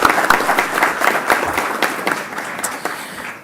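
Applause at a school board of trustees meeting, a room full of people clapping steadily and fairly loud, tapering off slightly toward the end.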